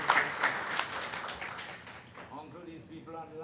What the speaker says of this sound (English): Let's give Uncle a clap